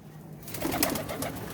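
Pigeons coo softly and close by in a short burst, a low burbling murmur with no one talking over it.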